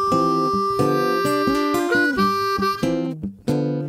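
A blues harmonica plays a short lick over the one chord, a run of reedy, bending notes in quick succession with a few sustained tones, close and loud, ending in a brief breathy drop.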